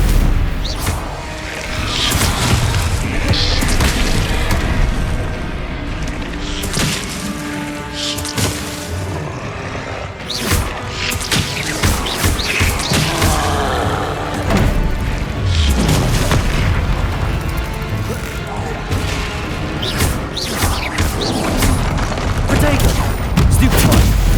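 Spell blasts boom and crackle in Hogwarts Legacy, loud repeated explosions and impacts throughout a hectic fight, with a voice shouting incantations over them.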